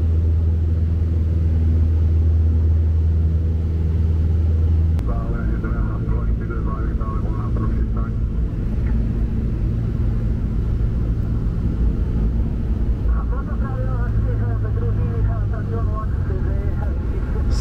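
A steady droning engine hum of a small airplane flying over the Czech Republic fills the cabin, continuous and loud, with a voice speaking over it.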